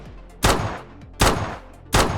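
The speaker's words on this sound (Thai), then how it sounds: "เสียงปืนดิเซอร์ดิเกิลครับ" Three loud Desert Eagle pistol shots from a modded video game with HD weapon sounds, evenly spaced about three quarters of a second apart, each a sharp blast with a short ringing tail.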